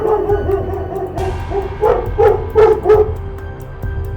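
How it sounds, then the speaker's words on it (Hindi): A village headman's dog barks at night: after a low rumble, a run of about five sharp, loud barks and yips comes close in quick, uneven succession, then fades back into the low background. "रात में जैसे ही रंगा और बिल्ला चोरी करने के लिए आते हैं, तभी मुखिया का कुत्ता शोर मचा देता है।"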